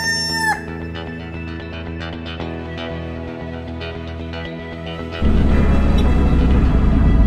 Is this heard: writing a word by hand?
no